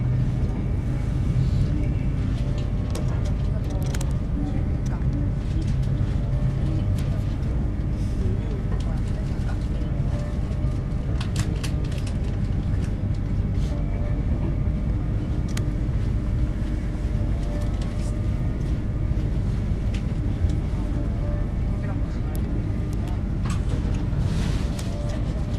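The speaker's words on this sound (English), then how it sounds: "Just one train, that's all, one engine." A single-engine freight train at Barnetby gives off a steady, heavy diesel rumble that holds evenly throughout at moderate distance, with no clear change in level.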